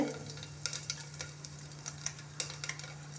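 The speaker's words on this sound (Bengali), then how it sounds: "দিয়ে দিচ্ছি পাঁচ ফোড়ন আঁচটা কমিয়ে দিচ্ছি প্রথমে যেহেতু তেলটা গরম হয়ে গেছে" Panch phoron spices crackling in hot oil over lowered heat, a steady sizzle broken by a run of sharp pops and spatters, close up and with no voices.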